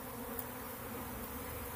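A small swarm of honey bees hums steadily and evenly, close and at a constant low level throughout, with no voices.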